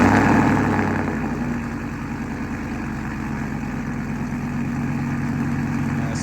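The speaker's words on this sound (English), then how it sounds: "This is going to be our very last cold start this morning with the stock cam." A truck engine with its stock cam running after a cold start, a steady low idle that settles slightly lower after the first second, close and continuous with no talking.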